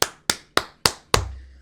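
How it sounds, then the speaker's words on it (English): Five sharp, evenly spaced hand claps, close and loud, each ringing off briefly, with a faint low hum under the last one. "Let's clap it up for that."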